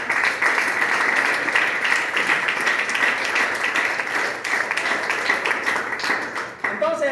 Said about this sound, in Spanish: ¿Quieres aplaudir para él en esta mañana?